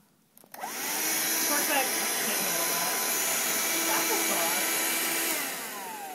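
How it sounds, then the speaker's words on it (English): A Shark vacuum cleaner switches on after a brief pause and runs with a steady, loud whirring roar that holds constant, easing slightly near the end. "Why do you love shark vac so much, Mason?"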